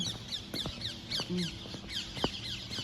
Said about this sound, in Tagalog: Oh, dami mga ibon.